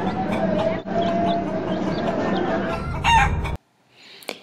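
Rooster crowing and clucking sounds over a busy, dense background for about three and a half seconds, then cutting off abruptly into near silence with a brief faint sound near the end.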